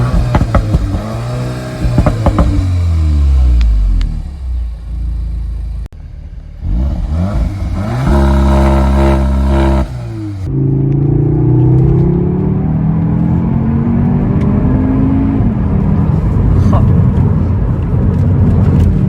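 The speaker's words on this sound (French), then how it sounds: "on va enchaîner tout de suite avec le son à l'échappement et bien sûr l'essai routier" A 310 hp Cupra Formentor's exhaust sounds loud and close, with engine revs climbing and falling in repeated bursts, then a longer sweeping acceleration, while someone talks in between.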